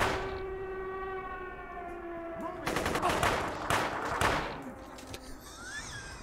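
Video game gunfire crackles in a dense cluster of sharp, rapid shots midway through, over a steady mechanical hum and a faint electronic tone.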